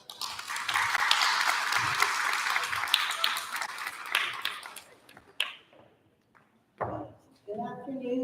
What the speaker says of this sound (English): So please give a round of applause for Dr.